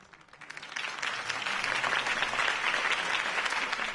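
Crowd applause after a campaign speech in the Batman Telltale video game, a dense wash of many clapping hands that swells in over the first second and then holds steady and loud to the end.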